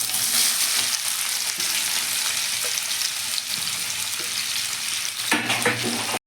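Onion tipped into hot oil already crackling with cumin seeds, giving a loud, steady close sizzle with spatula stirring scrapes throughout and a brief flare of hiss near the end, no one talking.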